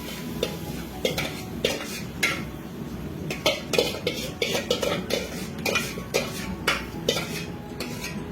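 A spoon stirs a cabbage and peas mixture in a pan, with repeated scraping and clinking strokes against the metal over a faint sizzle, close and fairly loud.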